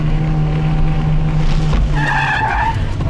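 Tyres squeal as a Renault Mégane RS drifts with Easy Drift tyre socks fitted on the rear wheels, over a steady close engine drone. The squeal rises into a sharper, tonal screech near the end.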